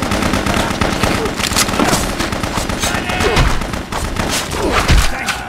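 Dense bursts of gunfire in the video game BloodRayne, rapid machine-gun-like volleys with heavier thuds mixed in, loud and continuous throughout.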